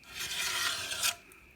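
Hand file rasping a burr off the edge of a lawn mower bed knife, a single close scraping stroke lasting about a second that fades into quiet.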